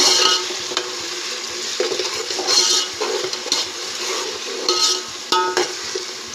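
Ginger paste fries in a pan for chicken biryani, a steady sizzle broken by repeated stirring scrapes and a few metallic knocks of a spatula against the pan.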